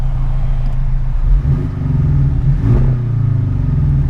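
Porsche 718 Cayman GTS with a Fabspeed Supercup exhaust revving close up, a deep throaty engine note rising twice in quick blips before settling back toward idle, loud and unbroken by talk.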